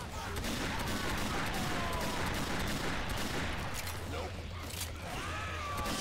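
Dense, continuous gunfire from survivors shooting at zombies in the game Left 4 Dead 2, a steady near wall of rapid shots with no break.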